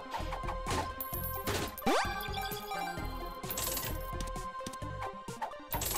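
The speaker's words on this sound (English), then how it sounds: "Sticky nickel, of course." A bright chiming coin pickup for a Sticky Nickel in The Binding of Isaac: Repentance, a short metallic jingle with a rising sweep amid clattering game effects and music.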